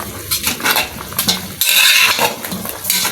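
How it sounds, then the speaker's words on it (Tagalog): Metal utensil scraping and clinking against a pot as cassava simmers in coconut milk, a few irregular strokes up close with a brief louder rattle midway. "Halo-haloin lang po natin yan."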